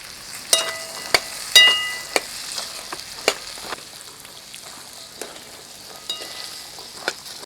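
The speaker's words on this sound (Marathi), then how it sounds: "ढवळून घेऊया आपण हे।" A pan of mixed bean and pigeon pea seeds is stirred, giving a soft sizzling bed broken by a few sharp scrapes and clicks of the spoon at irregular moments, close and unaccompanied by talk.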